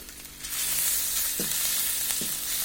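Crushed garlic drops into hot mustard oil and sizzles in a steady, close, bright crackle, with a couple of soft stirring knocks partway through and no voices.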